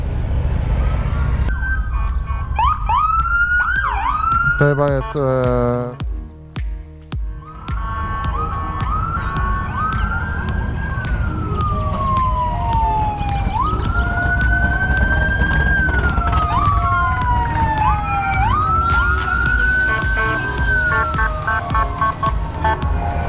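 A police car siren wails nearby in the USA, rising and falling through repeated sweeps and quick yelps over traffic noise, with a brief voice speaking early on.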